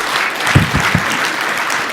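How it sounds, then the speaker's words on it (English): A conference audience applauds a speaker at a tech talk, dense continuous clapping from many hands filling the room, with a few louder nearby claps standing out. "let's give Timothy a big hand."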